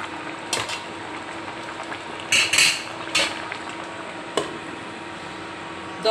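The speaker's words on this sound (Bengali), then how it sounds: "গ্রেভিটা সুন্দর মতো ফুটে উঠেছে," Mustard gravy for tapashi fish curry bubbles and simmers in a pan, a low steady boil broken by a few sharp clinks and splashy bursts.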